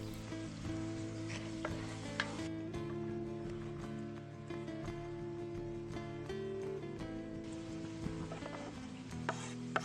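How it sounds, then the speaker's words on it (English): Diced pancetta and finely chopped onion sweat in a pan for a Catalan rabbit stew with chocolate, a steady close sizzle running throughout, broken by occasional scrapes and clinks of stirring. "we gently sweat the diced panceta with the finely chopped onion"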